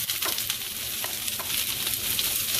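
Peppers and onions sauté in a pan, giving a loud, dense, continuous hiss of frying with faint stirring pulses throughout.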